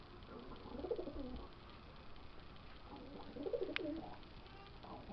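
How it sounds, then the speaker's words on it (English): A pet pigeon in its cage gives two soft rounds of throaty cooing, a few seconds apart, faint and close against low room noise. "Pete, you are a crazy bird."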